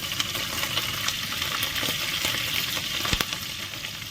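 Whole biryani spices and green chillies sizzle and crackle in hot ghee, a steady close frying hiss with scattered pops and a sharp spatter near the three-second mark.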